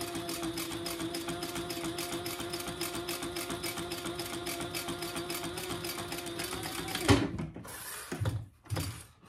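Steady rapid stitching of a sewing machine sewing a handbag runs loud and even for about seven seconds, then stops abruptly, followed by a few handling clunks and rattles.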